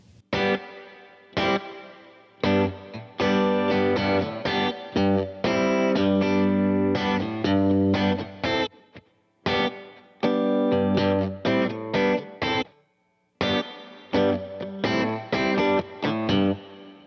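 A distorted electric guitar plays chords and riffs through room and plate reverb in turn, with a reverberant tail, in phrases separated by brief pauses.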